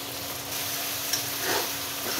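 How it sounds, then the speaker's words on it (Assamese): Duck meat and ground spice paste fry in hot oil for an Assamese duck curry, a continuous close sizzle with a soft scrape of stirring partway through. "এইখিনি এতিয়া ভাজিব লাগিব পূৰা, যাতে কেঁচা গোন্ধটো নাথাকে মছলাৰ"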